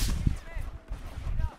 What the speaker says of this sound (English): once I spawned in, there was like some explosion right in my face